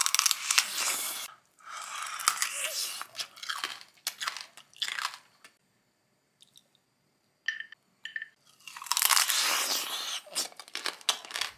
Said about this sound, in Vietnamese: Phải công nhận là cái món này giòn ngon, ăn rất là cuốn luôn.